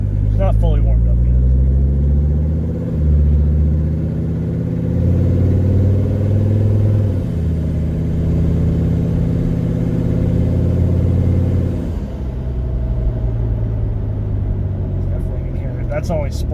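A turbocharged Mercedes-Benz 300TD with an OM617 diesel engine, not fully warmed up, accelerates through several gears with a loud, close, rising drone and a faint turbo whine, easing off near the end.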